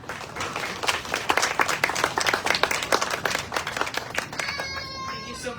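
Audience applause at a public event launching a zero-drowning initiative for children in Miami, a dense, close burst of clapping that swells and then tapers off toward the end.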